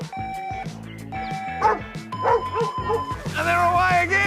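Dogs bark, yip and whine excitedly at the starting line of a dog race at an outdoor muster event, several close overlapping voices over a few seconds, mixed with crowd noise and a presenter talking.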